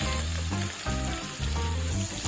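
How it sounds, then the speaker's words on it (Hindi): Pieces of jackfruit frying in hot oil, giving a steady close sizzle with soft bubbling and a few faint stirring pulses, no voices over it. "गरम तेल में कटहल डालेंगे और 5 मिनट के लिए फ्राई करेंगे।"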